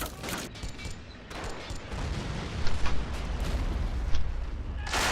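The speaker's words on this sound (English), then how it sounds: "Oh, some artillery's coming in of some kind." Artillery fire in a war video game, probably naval guns from battleships, comes as dense rolling booms and bursts over a continuous loud roar of battle, with sharper blasts near the middle and end.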